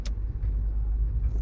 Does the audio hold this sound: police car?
yes